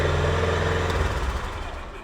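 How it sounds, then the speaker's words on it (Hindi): A Honda CB350 motorcycle engine idles with a loud, steady, deep exhaust rumble, continuous throughout at close range. "आइडियल कंडीशन का इंजन साउंड सुनिएगा, एग्जॉस्ट नोट सुनिए, भाई बहुत लाउड है, एकदम दहाड़ रही है।"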